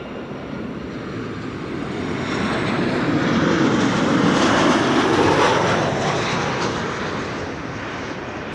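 A SunExpress airliner arriving from Mersin at Amsterdam Schiphol roars past, its broad engine rumble swelling to a loud peak midway and then easing off, with no voices.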